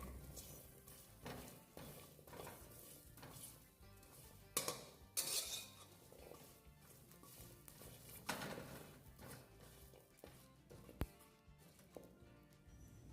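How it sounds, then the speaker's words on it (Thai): Galangal, lemongrass, kaffir lime leaves, shallots and garlic are dry-roasted in a pan, stirred with a utensil that clinks and scrapes against the metal. Soft, irregular taps and rustles run throughout, with a few sharper knocks, all faint and close. "นำข่าตะไคร้ใบมะกรูดแล้วก็หอมแดงกระเทียมมาคั่วให้หอมดีเลยนะคะ"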